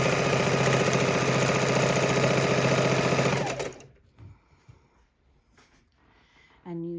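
Quilt fabric pieces run through a sewing machine for a baby quilt, a loud, steady rapid whirring close by for about three and a half seconds, then a sudden stop into near silence with small clicks before a brief whir returns.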